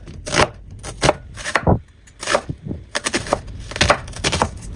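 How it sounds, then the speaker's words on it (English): A knife dices half an onion on a cutting board, a series of sharp, irregular chops in quick bursts with brief pauses, close and fairly loud, with no talking. "Dice half an onion."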